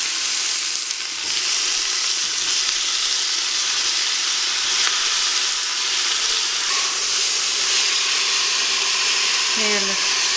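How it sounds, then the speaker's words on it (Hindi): Ginger and garlic hit browned onions in a hot pan for a tomato mutton curry, giving a steady, loud, continuous sizzle and frying hiss throughout, with a brief voice near the end. "अब मैं इसमें अदरक लहसुन डाल रही हूँ।"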